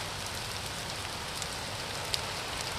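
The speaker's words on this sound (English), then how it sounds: "It's raining even more." Steady rain falling outdoors, a dense, even hiss of drops with a few brief sharper patters, close and continuous, with no talking over it.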